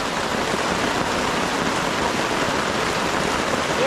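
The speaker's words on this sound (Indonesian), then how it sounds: "Hujan terus." Heavy rain falls in a forest during a multi-day outdoor trip with flooding, a loud, dense and unbroken hiss of downpour filling the whole stretch with no voices.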